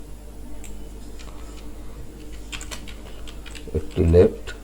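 Fingers tapping out code on a computer keyboard, a quick run of light clicks close by, ending in a brief louder burst; a voice speaks over part of it.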